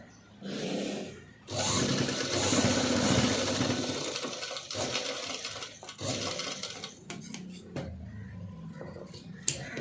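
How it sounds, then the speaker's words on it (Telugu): Sewing machine stitching padded blouse cup pieces: a continuous close whirring motor run lasting several seconds, then slowing into scattered clicks and taps of the fabric being handled, with no talk. "ఆ 3 పీసెస్ని కూడా ఇలా నీట్గా కప్లా స్టిచ్ చేసుకోవాలి"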